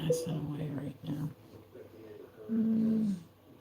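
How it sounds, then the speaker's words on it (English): A dog snores in the background through most of the span, with rough, breathy rumbles and a louder stretch near the end, mixed with a person's voice. "You guys will hear a doggy snoring in the background."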